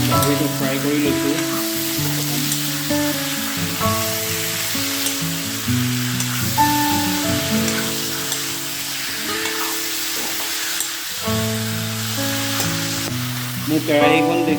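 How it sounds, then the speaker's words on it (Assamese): Pork sizzling loudly in an old, blackened wok for a Bodo pork with black lentils recipe, with repeated scraping stirs over a constant crackle and a melodic tune playing underneath. "গাহৰিটো ফ্ৰাই কৰি লৈছোঁ।"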